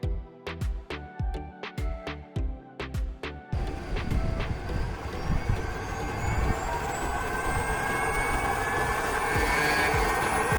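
A rocket stove switched on at its control panel: a few rapid ticking pulses, then a steady, loud, broadband roar of flame and blower that holds without a break.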